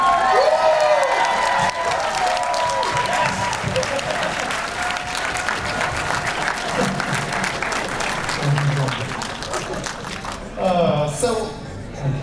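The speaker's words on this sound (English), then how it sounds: "Everybody on their feet. Everybody cheering." A crowd at a Politicon event in Los Angeles applauds and cheers, with sustained loud clapping, whoops and shouts blending into a roar and voices carrying over it, before a final swell near the end.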